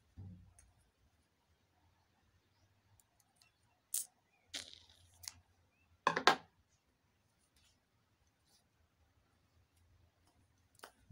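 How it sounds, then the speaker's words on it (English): Yarn being cut with scissors after finishing a crocheted butterfly top: a few brief, sharp snips and clicks clustered mid-clip against near silence, quiet and close. "Then I chain 1 and I cut my yarn."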